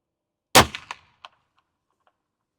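One sharp, loud shot from a Maynard Sporting rifle cracks out after silence, followed by a few fading metallic clicks and echoes.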